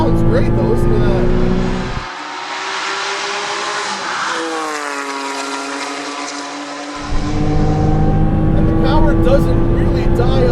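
A turbocharged 2007 Porsche Cayman S engine revs on a wet racetrack, loud and close, dropping off briefly as the throttle lifts before surging back into a strong rising whine, with a voice talking over part of it.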